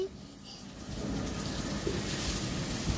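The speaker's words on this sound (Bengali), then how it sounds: "মিরপুরের প্রথম বৃষ্টি, মিরপুরের প্রথম বৃষ্টি, প্রথম বৃষ্টি" A steady hiss of the first rain falling in Mirpur fills the background, building after a quiet start and continuing evenly.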